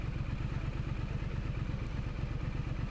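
Triumph Scrambler 900 motorcycle with a 900 cc engine running steadily at low-to-mid revs, a loud, even, pulsing rumble with mechanical clatter that continues alone and unbroken throughout.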